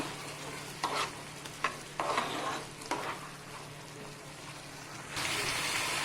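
Raw onion paste sautéing in a pan, heard as a steady low sizzle with a few scraping stir strokes, growing louder and brighter near the end, with no talking.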